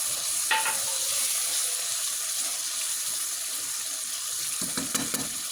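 Water poured into a hot pan of steamed chicken sets off a loud, steady hiss and sizzle that runs continuously throughout, with a few sharper crackles near the start and end.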